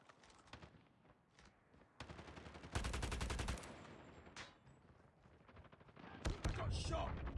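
Gunfire in the mobile shooter Call of Duty: Mobile comes in sharp bursts of automatic fire and single shots, with one loud sustained volley, mixed with game sounds and brief talk.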